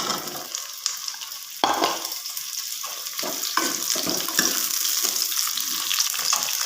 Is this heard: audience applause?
no